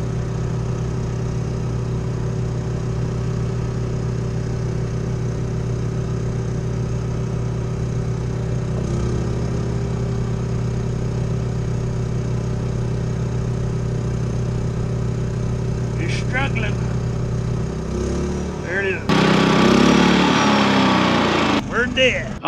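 Rear rooftop air conditioner on a Thor Magnitude Super C motorhome starting and running, a steady motor hum and compressor drone that shifts partway through, followed by louder rattling clunks near the end.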